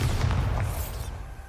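Bombarda blasting spell from a Harry Potter video game, set in a maze, bursting as a loud, deep rumbling boom that fills the start and slowly fades away.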